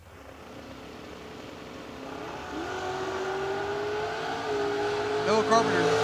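Drag race cars launching at a memorial drag race, one a Roadster, engines building from a steady drone into a rising rev that climbs over several seconds, moderately distant under faint crowd and announcer ambience.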